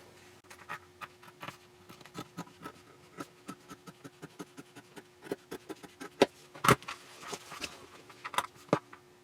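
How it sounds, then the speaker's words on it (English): Scissors snip through denim panels cut from old jeans, giving a close, irregular run of short crisp cuts over a faint steady hum, with a few louder snips near the end. "take my scissors and cut out on the 2 lines that I just drew"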